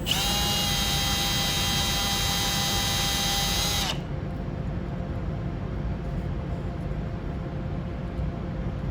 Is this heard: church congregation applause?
no